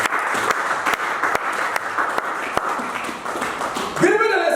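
A church congregation applauding, with dense steady clapping and scattered sharp claps and voices mixed in, ending in a louder vocal swell.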